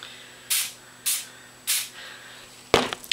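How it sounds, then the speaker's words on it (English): Three short hissing bursts of dry shampoo aerosol sprayed onto a hand, evenly spaced and close, followed by a brief clatter near the end. "So it sprays on my hand pretty clear and will dry pretty clear as well"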